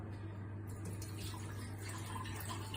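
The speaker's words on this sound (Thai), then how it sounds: "นี่ครับอย่างแรกเราเทน้ำใส่ก่อนเลยครับ" Dirty water drawn from a condominium fountain pours into a container in a continuous, splashy stream over a low steady hum, with no voices.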